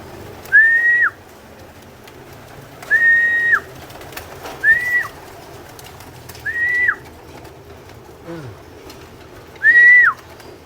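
Racing pigeons come down to land at a loft. Five or so separate whistling coo-like calls ring out loud and clear over a quiet outdoor background.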